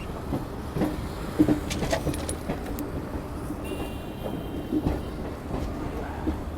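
The Garib Rath Express rolls along the rails, heard from on board as a steady rumbling roar with occasional rattles and clicks of the carriages, continuous and without speech.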